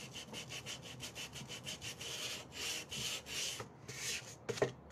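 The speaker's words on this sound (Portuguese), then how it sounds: "eu consigo lixar essa parte que é bem difícil" Hand sanding along the edge of an MDF wooden box produces quiet, rhythmic back-and-forth scratchy strokes, close and steady for several seconds.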